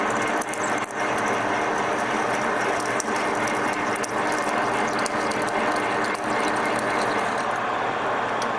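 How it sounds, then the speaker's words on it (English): Metal boring on a lathe, cutting a hole about 3/8 to 7/16 inch deep: a steady, dense mechanical whir and ratcheting chatter runs continuously at constant loudness, with no talking. "Let's bore to that depth."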